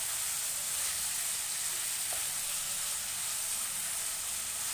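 Tomato frying in a pan as part of cooking Bombay sagu, a steady, close sizzle with a bright hiss that continues evenly and alone throughout.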